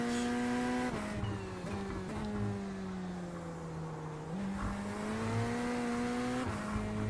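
GT3 race car at The Bend in a racing simulator, its engine droning steadily with gear shifts and pitch dips as it slides through a drift, the tone rising and falling continuously with no talking.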